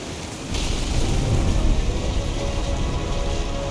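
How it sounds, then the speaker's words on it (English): Heavy rain pours down steadily during a storm in the video game What Remains of Edith Finch, with deep rumbling thunder swelling in under it after a brief quieter start. "The thunder sounded much too close and full of angry power."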